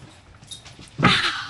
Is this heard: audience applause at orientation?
no